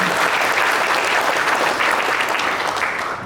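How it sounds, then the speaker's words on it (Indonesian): An audience at a village cooperative dialogue event in West Papua applauds the vice minister, with sustained, dense clapping that holds steady at a fairly loud level and eases slightly toward the end. "Kita kasih tepuk tangan untuk Pak Wamen."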